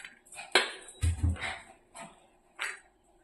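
Boiled horse gram served onto a plate brings a few light scrapes and clinks of a spoon on the dish, close and soft, with a dog nearby and brief pauses between the sounds.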